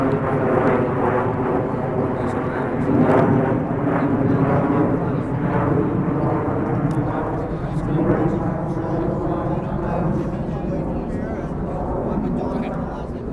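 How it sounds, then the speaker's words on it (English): An airplane passes overhead outdoors, a loud, steady low rumble filling the whole stretch and swelling slightly midway before easing off. "Let's wait for the plane to cross."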